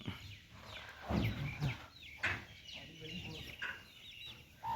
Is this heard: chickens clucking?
yes